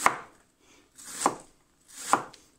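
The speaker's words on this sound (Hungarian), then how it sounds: "Ide készülünk így a hagymára, aprítsuk össze." Onion is chopped with a very sharp Fiskars Edge knife on a board, making three separate crisp chops about a second apart. The chops are close and moderately quiet, with no voices.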